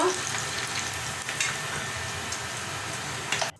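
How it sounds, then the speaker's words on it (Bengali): Chicken pakoras fry in oil over medium heat with a dense, continuous crackling sizzle that stays loud and even, then cuts off abruptly at the end. "আমি এখন পাকোড়াগুলা মিডিয়াম হিটে ভাজতেছি"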